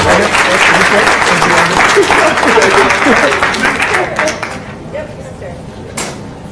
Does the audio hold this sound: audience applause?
yes